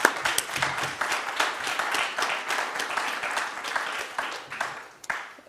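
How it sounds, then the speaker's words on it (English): Conference audience applauding the speakers, a dense patter of many hands in a hall that swells, then thins out and trails off near the end. "I propose a big applause to all of them."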